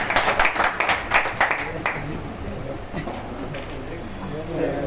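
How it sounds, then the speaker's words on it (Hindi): Applause at an award ceremony, with a burst of close hand claps in the opening two seconds that thins into a murmuring crowd wash and faint clinks, moderately loud throughout. "जोरदार तालियां हो जाए"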